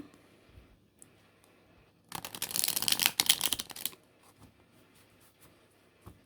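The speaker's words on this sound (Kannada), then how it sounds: "ಓಕೆ, ಸೊ ಬನ್ನಿ ಕಾರ್ಡ್ ಶಫಲ್ ಮಾಡೋಣ." Tarot cards shuffled by hand in a quiet room, a close, dense riffling flurry lasting about two seconds, then a few faint card taps.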